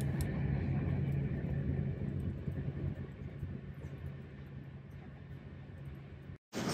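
A train running from Gare du Nord to Lille gives a steady, loud interior rumble with a low hum, heard from inside the carriage for several seconds before a brief dropout.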